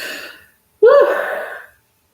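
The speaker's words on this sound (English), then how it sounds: "That was a yawn." A woman gives a single loud, drawn-out yawn during a livestream, starting as a sharp breathy intake and sliding into a voiced, wavering sigh that trails off, close to the microphone and heard alone after a short breath.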